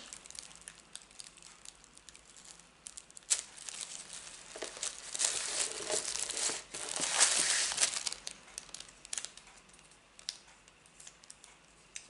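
Tissue paper sealed with washi tape crinkling and rustling as a November 2019 papercraft subscription box is unboxed, soft scattered crackles rising into a louder burst of handling midway, then tapering to faint rustles.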